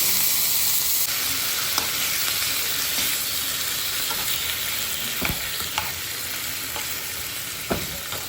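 Bacon frying in a pan while cooking Bicol express, a steady close sizzle with occasional sharp pops and stirring clicks, no talk.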